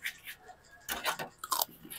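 Crispy roast lechon skin being bitten and chewed close up, a few sharp crunchy bites separated by softer munching, quiet and intimate with no talk.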